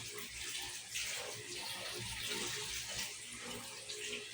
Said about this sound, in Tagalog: Linisin muna natin ang lababo.